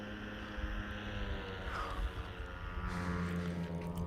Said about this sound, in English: I swear that is a loud boat.